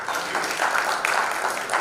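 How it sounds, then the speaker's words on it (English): Audience applause at the Mumbai Achievers Awards 2021 ceremony, a steady wash of many hands clapping at moderate distance, sustained throughout without pause. "I genuinely want you to give a big round of applause for Nana."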